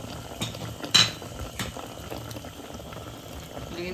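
Goat head curry simmers with a little added water in a pot, bubbling steadily and softly up close, with a light clink of a utensil against the pot.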